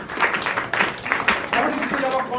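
A classroom of students clapping together, a brief ragged round of applause in a room, with a teacher's voice talking over it.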